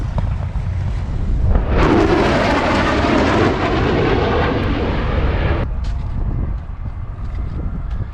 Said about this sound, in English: FA-18 Super Hornet coming in for landing, which will probably close out the Stewart Air Show for 2024.